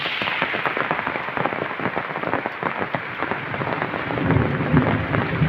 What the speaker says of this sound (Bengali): কি সুন্দর আকাশ ডাক দিচ্ছে।